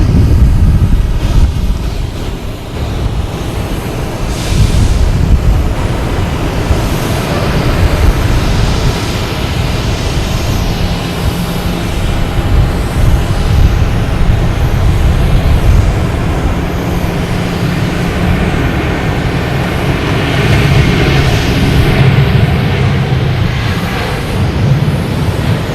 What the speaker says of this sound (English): They got the clearance to take off. They are on the runway.